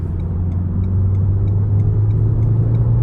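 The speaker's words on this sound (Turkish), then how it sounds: "Şu an gaza full bile basmıyorum arkadaşlar. Yani aşırı bir şekilde hızlanıyor ve zaten spor moddayım." A 2019 Renault Megane 1.3 TCe with EDC gearbox accelerates in sport mode, heard from inside as a steady, loud low engine drone and road rumble with a faint rising tone over a few seconds.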